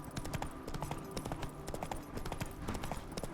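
Hooves of a horse clip-clop steadily in The Witcher 3: Hearts of Stone, a quick, even trotting rhythm close up and fairly quiet, with no voices over it.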